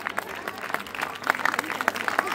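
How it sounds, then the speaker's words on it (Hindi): An audience at a village stage event claps loudly, dense sustained applause with sharp individual claps, a voice speaking over part of it. "बजाओ ताली, थारा की चूड़ी होने थोड़ी है"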